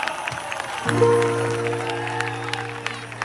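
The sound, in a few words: audience applause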